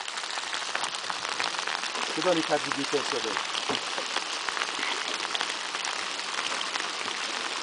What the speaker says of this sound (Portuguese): Mas tá chovendo demais agora, moço.